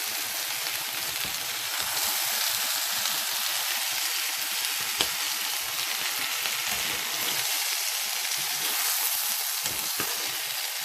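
Steady, close sizzling of food frying in a pan, with soft scraping and clicks as it is stirred throughout.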